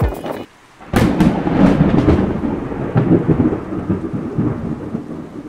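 A loud, close rumble of thunder rolls on for several seconds on a mountain peak on the Dragon's Back hiking trail, with rain hissing steadily underneath and a crackling burst near the start.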